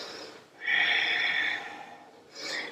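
A person in a yoga pose takes audible breaths through the nose: a short exhale fades out, then a long, steady airy breath lasts about a second, followed by the start of another, close and clear with no talking.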